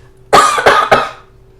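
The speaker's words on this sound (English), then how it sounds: "Damn cough" Three quick, harsh coughs in a row, close and loud, then quiet.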